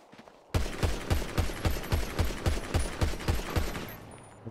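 Gunfire in a GTA roleplay game: a rapid burst of about a dozen evenly spaced loud shots, close and sharp, following a quiet start and fading into faint ringing at the end.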